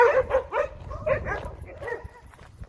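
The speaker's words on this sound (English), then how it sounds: "an example of dogs going totally berserk just because I pass by" Several dogs barking furiously at a passer-by outdoors, loud overlapping barks and yips in rapid, continuous bursts close at hand, fading slightly toward the end.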